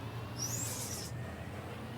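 A thin, high turbo whistle from a BMW in a video game rises and falls for about half a second over a low, steady engine hum, fairly faint.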